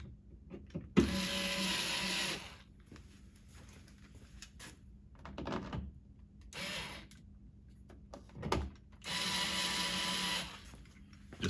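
Screws being driven by a power driver into a hatch panel on a Foxbody, heard as several separate whirring bursts of a few seconds each with quiet gaps between them.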